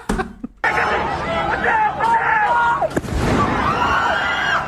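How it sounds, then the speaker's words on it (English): A sharp firework bang goes off midway through a noisy crowd at a campus rally, with shouting voices and chatter before and after it. "That's a firework!"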